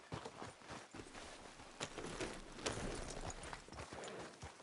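A horse's hooves clip-clop steadily in Red Dead Redemption 2, a quick, fairly faint patter of close footfalls on the ground with no talk over it.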